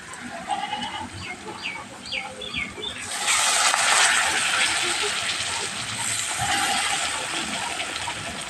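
Birds chirp faintly, then water is poured onto spices in a hot cooking pan for a mutton-fat and chicken chatpati, setting off a sudden loud hiss that fades gradually.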